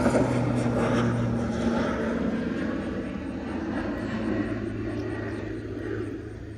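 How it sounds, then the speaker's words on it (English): A crop duster airplane flying over Mississippi Delta farm country, its propeller engine a steady droning roar that holds loud and even throughout with a slight fade toward the end, heard outdoors beside a fishing spot. "Goes the crop duster."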